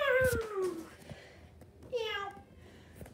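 Two drawn-out, falling meows, loud and close, with a short quiet gap between them.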